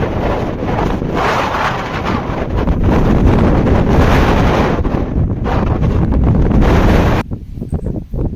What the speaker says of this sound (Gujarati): જોરથી હવા ચાલે છે